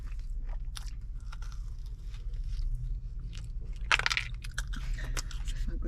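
Crunchy bites and wet chewing of a juicy guava-like fruit, eaten outdoors while camping on Maui, Hawaii; several close bites with louder crunching near the end over a low background hum.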